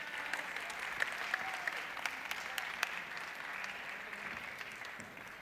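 A crowd applauds honorees at a Forbes awards ceremony, a steady wash of clapping heard at moderate distance with a few sharper individual claps standing out.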